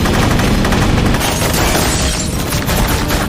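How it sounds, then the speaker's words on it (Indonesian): Sustained dense gunfire and booming blasts fill a movie gunfight scene as soldiers clash over a bomb, loud and continuous throughout with no speech. "terjadi baku tembak yang dimenangkan pasukan Volkov."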